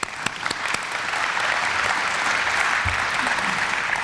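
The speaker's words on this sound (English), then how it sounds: "So let's give them a round of applause." Steady applause from a room of attendees at a chamber of commerce luncheon, a few sharp claps at the start before settling into a full, sustained clatter of hands that holds to the end.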